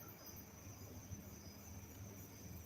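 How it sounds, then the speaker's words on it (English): Crickets chirp at night beside a back patio, a faint, continuous high trill over a low background hum, with no talking. "You could probably hear the crickets behind me."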